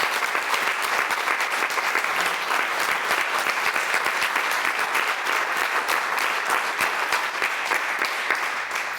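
A theatre audience claps steadily and densely for the whole stretch, a continuous wash of applause with no voices over it.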